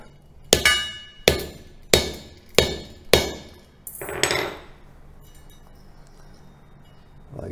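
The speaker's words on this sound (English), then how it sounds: "And hit it with a big hammer." A big hammer strikes a wooden block five times in an even rhythm, each blow a sharp, loud, close crack, followed by a brief scraping rustle and then near silence.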